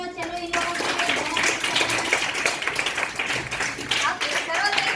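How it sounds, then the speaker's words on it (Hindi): Classroom students clapping together, a dense continuous patter of many hands under children's voices and chatter, fairly loud and close throughout. "हाँ, ताली बजाओ।"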